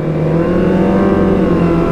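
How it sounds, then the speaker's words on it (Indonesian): A Kawasaki ZX25R motorcycle engine revs close and loud, a high, continuous, rising whine holding steady for a couple of seconds. "Motornya dijanjak ya."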